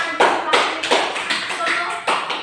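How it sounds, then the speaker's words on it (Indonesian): Classroom applause for a student group, a burst of clapping from many hands with a few louder swells, close and filling the room throughout. "Beri tepuk tangan dulu untuk kelompok 3"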